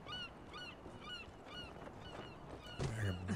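Several geese honk repeatedly in Spec Ops: The Line, a run of clear nasal calls at moderate distance with a brief low thud near the end.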